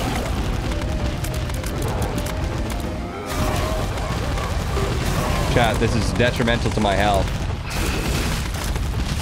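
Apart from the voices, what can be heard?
explosions in video game The Binding of Isaac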